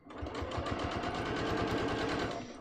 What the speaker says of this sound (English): I'm going to stitch all the way up to the top, sort of mirroring my first row of stitching